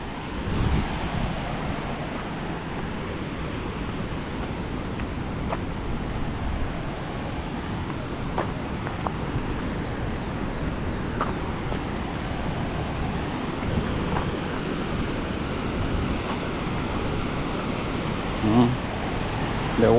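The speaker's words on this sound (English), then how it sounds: "The waterfall of the raw sewage." Raw sewage pours down a waterfall into the Nairobi River, a steady broadband rush of falling water that stays continuous and fairly loud for the whole stretch, with no talk over it.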